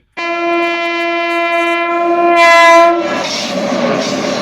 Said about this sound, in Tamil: இப்போ ஒரு கூட்ஸ் ட்ரெயின் கிராசிங் இருக்கிறதால நிற்கிது